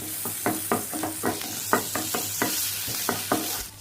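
Chopped ginger and garlic sauté in melted butter in a pan, giving a steady sizzle broken by rhythmic scraping stirs, close and fairly quiet, with no talking.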